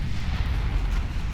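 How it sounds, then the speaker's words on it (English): Heavy naval gunfire and explosions in the Ultimate Admiral Dreadnoughts video game: a dense, rumbling roar of booming 13-inch guns and blasts hitting cruisers, loud and continuous for a brief moment. "those heavy cruisers getting absolutely torn apart by the 13-inch guns"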